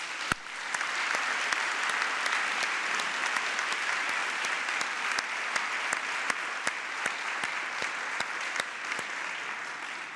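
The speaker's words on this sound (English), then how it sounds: "let's give them all a round of applause" Steady applause from a ceremony audience honoring a standing team, dense clapping throughout with a few sharper individual claps standing out, moderately loud and unbroken.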